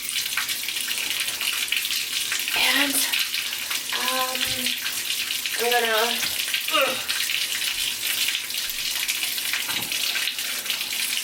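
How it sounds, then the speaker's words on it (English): Water running from a shower tap in a bathroom tub onto a houseplant, a steady broadband hiss under a person's brief talking. "I'm going to turn on the water"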